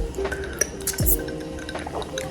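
Liquid pours into a glass with a rising fill tone, followed by a gulp and a clink, close up in a quiet room.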